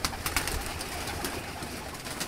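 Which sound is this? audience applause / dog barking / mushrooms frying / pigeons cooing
pigeons cooing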